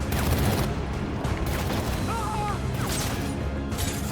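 Dense, continuous bursts of shotgun fire crackle in Batman: Arkham Origins, layered with clatter and faint background voices.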